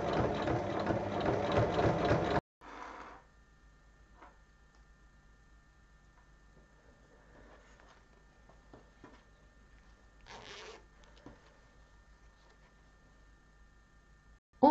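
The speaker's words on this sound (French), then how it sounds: "On va ensuite prendre l'autre partie, placer endroit contre endroit et piquer tout le tour." A sewing machine stitches all around the edge of fabric pieces for a small bag made from reused material. It runs loud and continuous for about two seconds, then gives way to near-quiet with faint scattered mechanical ticks.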